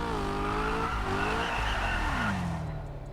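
A Ford Mustang GT500 in Test Drive Unlimited Solar Crown roars with a loud, rising and falling engine exhaust note, shifting pitch as it revs, mixed with tire squeal, steady throughout.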